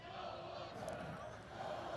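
Crowd noise at a European quidditch championship division one match between Titans Paris and METU Unicorns, a steady broad roar of spectators cheering after a goal, sustained and moderately loud for the whole moment.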